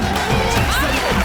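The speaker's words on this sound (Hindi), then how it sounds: "जोरदार तालियां जैमी के लिए" A studio audience at a comedy talk show cheers and claps to welcome a comedian on stage, a brief dense burst of crowd noise with voices mixed in.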